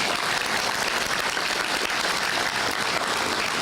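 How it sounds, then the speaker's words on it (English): Audience applause for Derek and the CPS Energy Board of Trustees at a solar project announcement, a dense, steady wash of clapping that stays loud from start to finish with no voices over it. "let's give one more big round of applause for Derek and all the CPS Energy Board of Trustees"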